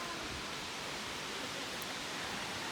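A waterfall in Spearfish Canyon, South Dakota, swollen after a night of rain, gives a steady, loud broadband rush of falling water that holds unchanged throughout with no voices.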